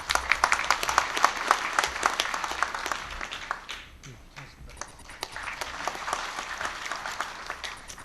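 A hall of delegates at the 2013 Korean trade union congress claps loudly to welcome a guest speaker. The applause is crisp and sustained for several seconds, thinning slightly midway and then swelling again.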